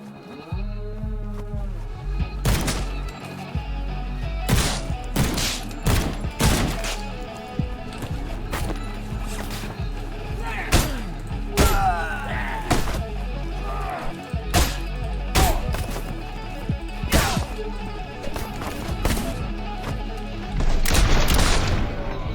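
Video game combat with rapid gunfire and grenade explosions, dense bursts of shots and heavy booms crowding each other over a steady game soundtrack, with a loud cluster of blasts near the end.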